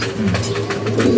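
Racing pigeons coo in a loft, soft low throaty calls rising and falling in a short close burst with no talk.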